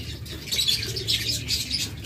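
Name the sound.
pair of yellow collar lovebirds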